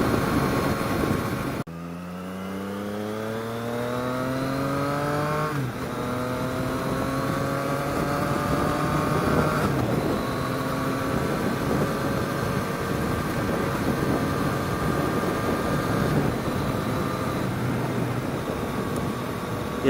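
Triumph Street Triple R 765 motorcycle cruising at about 70 mph, a steady engine drone with rising and shifting tones as the rider changes speed, heard up close under constant wind rush throughout.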